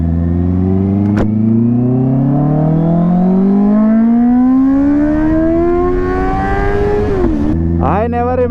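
Honda CBR650R superbike engine revs up in one long rising sweep, climbing steadily in pitch before a brief dip and a sharp blip of throttle near the end, loud and close throughout.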